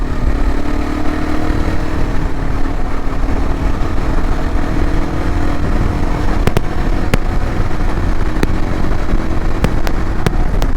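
A Yezdi Adventure motorcycle on the road, its engine and exhaust a steady, loud drone under heavy wind rush, with a few sharp pops near the end.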